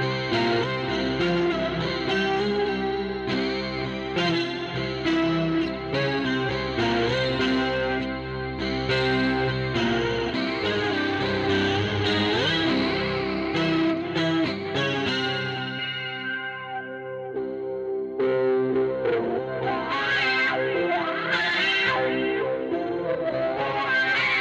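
Electric bass run through an upper-octave effect pedal, imitating a 12-string bass, plays a continuous busy riff with a shimmering, chorused, slightly distorted edge. It is loud and close, with no talking, and the tone thins briefly midway before the full riff returns.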